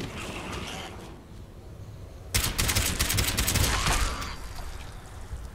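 Rapid firecracker-like gunfire pops in Fallout 76, a dense burst of sharp crackling shots that starts suddenly and rattles on for several seconds over a constant ambient game background.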